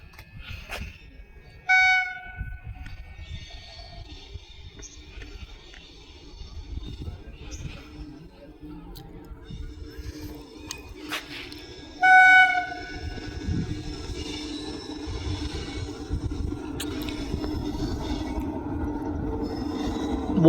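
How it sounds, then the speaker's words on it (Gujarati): An Okha–Dehradun passenger train pulls into a station bound for Jamnagar, its horn blaring loudly twice and rail rumble swelling steadily under crowd noise throughout. "ભાઈઓ આપણી ટ્રેન આવી ગઈ છે જામનગર જવા માટે"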